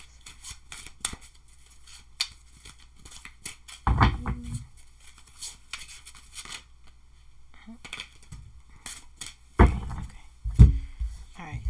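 Playing cards shuffled by hand in a few quick riffling bursts, close up, with soft ticks and handling noises in between.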